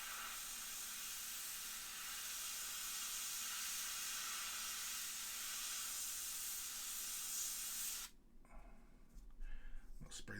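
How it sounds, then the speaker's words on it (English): A long, continuous hiss of aerosol spray paint coats a McFarlane Toys Hellblaster Primaris marine figure for about eight seconds, then stops abruptly, leaving quieter handling noises. "I'll spray this way as well."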